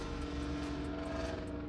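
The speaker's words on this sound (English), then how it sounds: "Y'all hear that truck?" A loud truck passes outside, heard from indoors as a steady, muffled low rumble with no other sound over it.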